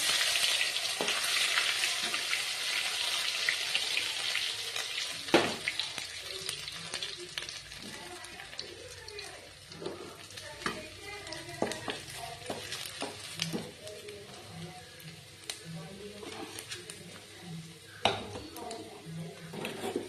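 Crushed ginger frying in a pan for vegetable khichuri: a steady, close hiss of oil with scattered scrapes and clinks of stirring throughout, and a voice speaking at times.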